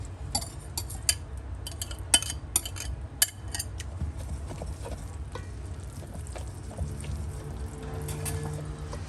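Flour is poured into a bowl with a pinch of salt for cookie dough, with soft rustling, light clinks of utensils and dish contact over a low kitchen hum, close and quiet.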